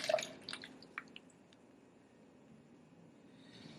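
Soaking water drains from a container of seeds over a kitchen sink, giving a few close, soft drips and splashes at the start before fading to a quiet hush.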